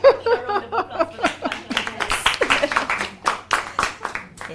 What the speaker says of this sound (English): I think we need a round of applause for